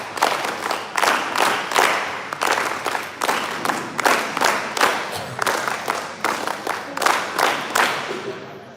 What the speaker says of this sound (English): NSS clap goes to.